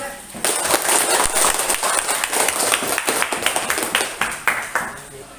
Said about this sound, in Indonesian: Beli aplaus dulu keseluruhannya.